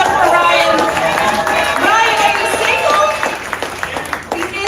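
Comedy show audience breaking into applause and cheering for a man named Ryan, a dense, sustained wash of clapping and crowd noise that tapers slightly toward the end.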